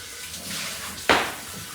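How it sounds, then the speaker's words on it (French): Running tap water briefly washes over a Thermomix bowl during a quick rinse: a soft hiss of flowing water, then a sharp, close splash as the stream hits the bowl. "Alors, un petit coup sous l'eau vite fait."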